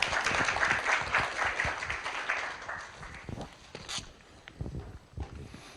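A university forum audience applauds to welcome a vice president to the podium, a moderate burst of clapping that fades after a few seconds into scattered handling noises and footsteps.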